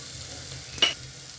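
Onions sautéing in a pan for parippu curry, a low, steady sizzle with a single brief scrape of a utensil near the middle, faint and close, with no voices.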